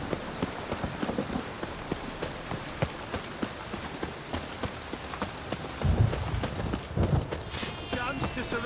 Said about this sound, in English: Rain again. Damn mages. Rain was coming.